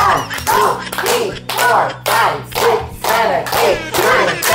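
Party guests at a home celebration clap in steady rhythmic bursts together with cheering and shouting, loud and close, repeating in waves across the whole stretch.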